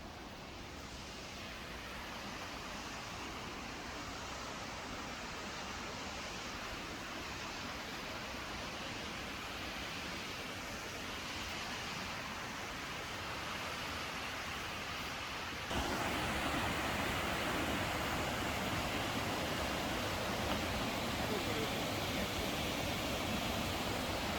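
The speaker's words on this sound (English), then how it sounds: "Just after leaving Old Faithful, we stopped to look at the Kepler Cascades." Kepler Cascades, a waterfall in Yellowstone National Park, roars as a steady, broad rush of water throughout, growing slightly louder partway through, with no voices.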